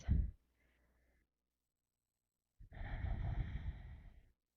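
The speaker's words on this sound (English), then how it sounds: "Making sure you're breathing in through the nose and out through the nose." Slow nasal breathing during a morning yoga hold: a short exhale at the start, a pause of near silence, then a long, steady breath drawn through the nose, close and quiet.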